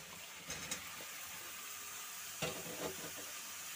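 Jackfruit pieces added to a pan after potatoes have fried, giving a faint, steady sizzle with a few soft clatters of stirring and no talk.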